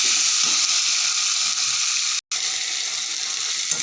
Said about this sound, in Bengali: এই সয়াবিনগুলো দিয়ে দিলাম সয়াবিন সয়াবিনগুলো দিয়ে এই মশলাগুলো দিয়ে দিলাম এবার কষিয়ে নেবো ভালো করে